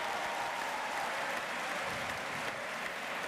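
Audience applause at a raspall pilota final, the Lliga match of 27 July 2012, a steady dense wash of clapping from a crowd in the gallery, loud and sustained throughout with no voices standing out.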